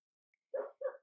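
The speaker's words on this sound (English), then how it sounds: "Sorry about the dog." A dog gives two quick, close barks in a quiet indoor room, one right after the other.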